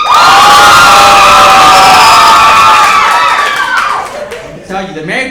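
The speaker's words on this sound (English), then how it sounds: "Clap the married people." Comedy club audience at a stand-up show applauding and cheering loudly, a dense burst of clapping, whoops and shouts that fades over a few seconds into scattered voices.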